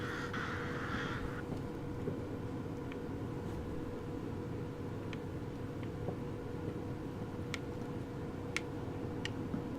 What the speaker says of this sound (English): Crow sounds just suddenly stop.